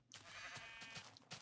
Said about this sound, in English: ooh, sheep. Let's punch them.